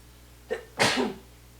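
A single close sneeze, with a faint sharp intake of breath just before the loud burst, then quiet.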